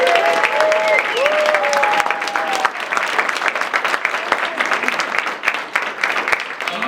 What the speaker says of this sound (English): Can we please clap it up for Miss Pat?